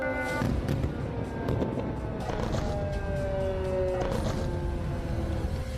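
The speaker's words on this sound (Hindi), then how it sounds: "गाजा की सायरन का शोर अब इजराइल की राजधानी तेल अवीव में भी सुनाई दे रहा है" A wailing air raid siren in Tel Aviv sliding up and down in pitch, heard at a distance over steady background rumble.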